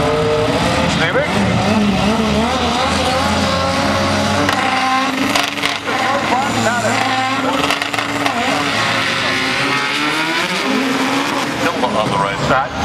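Race cars roar loudly and continuously at a drag strip, a 1997 Honda Civic against a Dodge, with engine revving and tire noise; an announcer talks over the engines throughout.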